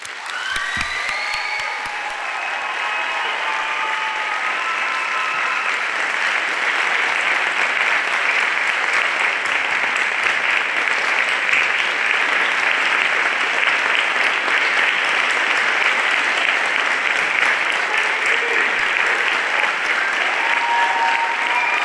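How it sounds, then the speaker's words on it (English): A university audience at a This Is My Brave: College Edition event in Tampa gives the cast a round of applause: dense, sustained clapping that swells and holds for about twenty seconds, with a few cheers near the start. "please just take a moment to give our cast members a round of applause once again."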